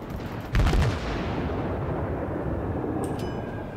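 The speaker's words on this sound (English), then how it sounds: "good ranging shots" Main guns of the Warspite battleship firing in World of Warships, one heavy booming salvo followed by a long rumbling decay and a faint high ping at the end.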